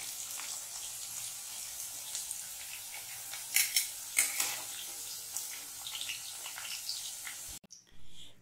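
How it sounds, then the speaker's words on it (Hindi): A slotted spoon lifting fried potatoes out of a kadai, faint oil sizzle with several scraping clinks of metal against the pan, ending in a brief near-silence and a soft knock. "यहाँ पे हम चम्मच चेंज करके जालीदार चम्मच से आलू को निकाल ले रहे हैं"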